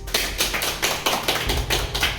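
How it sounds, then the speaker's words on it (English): Steady rhythmic clapping from a small audience, heard close and loud with regular beats throughout and no speech over it. "So let's give this gentleman a round of applause"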